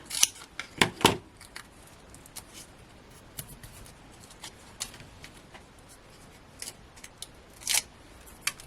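Scissors cut cardmaking paper several times in quick, uneven bursts, close and crisp, with quieter rustling in between.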